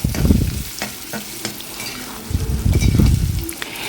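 Chinese potato (koorka) stir-fries in a pan, with close scraping stirs and soft clatter arriving in bursts over a continuous oily sizzle, and no speech.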